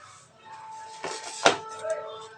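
A masala grinder is set down in a home kitchen, giving a single sharp knock against a hard surface with a lighter clunk just before it, close and clear over faint background hum.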